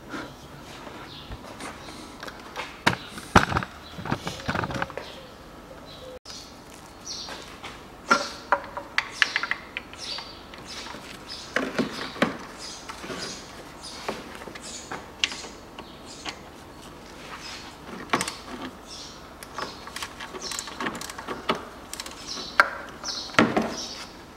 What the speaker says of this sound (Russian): Откручиваю сбоку. Здесь торкс Т30.